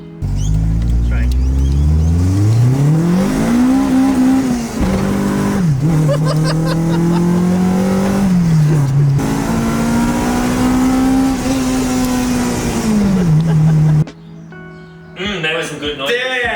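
A VTEC-equipped car engine revs hard and loud from close by, its pitch climbing sharply as the cam switchover kicks in, then holding in a high wail through several pulls before dropping away abruptly near the end.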